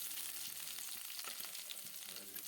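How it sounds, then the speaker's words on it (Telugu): Cloves and bay leaf frying in hot oil in a pan give a steady, close hiss and crackle throughout, with a few faint stirring scrapes and no talking. "ఇలా పెనంలో ఆయిల్ వేసుకొని లవంగాలు బిర్యానీ ఆకు"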